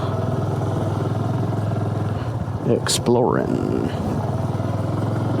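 Honda Super Cub motorcycle engine running steadily while riding in the Ozarks, a constant low drone with a brief clatter and gear-change surge midway, under a rider's speech.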